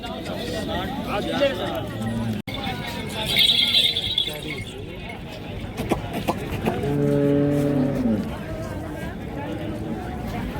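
Bulls lowing at the Lasur Station bull market, a livestock fair trading Khillar pairs; a loud, drawn-out moo rises in the middle amid busy crowd chatter and nearby talking.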